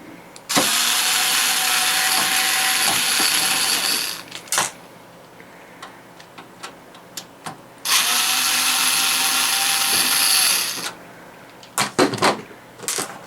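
A screwdriver backing screws out of a desktop PC case that holds loose rattling screws: two long whirring bursts of a power driver, each followed by sharp metallic clicks and clatters of screws and the tool.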